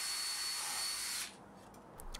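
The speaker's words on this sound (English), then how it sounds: "I find the centre point and drill a hole through" A drill boring a centre hole through a small piece of board for a bandsaw circle jig, a steady high whine lasting about a second before stopping, leaving a quiet room.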